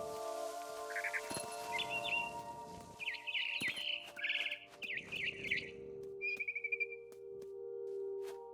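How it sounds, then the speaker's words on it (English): Barn swallow chirping in the video game What Remains of Edith Finch, a run of short bright tweets and trills over a steady ambient game hum, moderately close and without talk. "It was a barn swallow going back to her nest."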